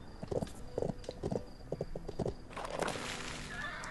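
Horse hooves thud in a quick walking rhythm on a horse farm in the Bibi & Tina video game, close and distinct, then give way to a brighter rustling bed of game sound.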